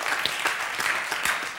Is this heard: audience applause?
yes